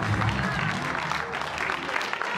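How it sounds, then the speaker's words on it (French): A concert audience at the Palais de Bozar in Brussels claps for a Congolese singer, a brief, dense burst of applause with some crowd murmur and a voice mixed faintly underneath. "Est-ce qu'on peut applaudir"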